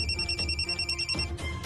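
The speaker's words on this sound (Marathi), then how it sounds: "आला फोन. फोन आला त्याचा." A phone rings with a repeating electronic ringtone, short tonal pulses in a quick steady pattern, moderately loud and close, with no one speaking.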